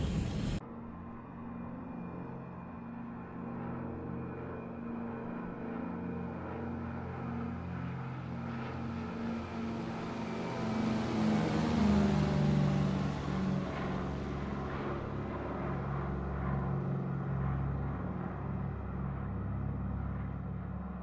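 A Douglas DC-3 propeller airliner taking off in Microsoft Flight Simulator 2020, a steady loud twin radial-engine drone that swells in power midway as the aircraft rotates and climbs, with no talking over it.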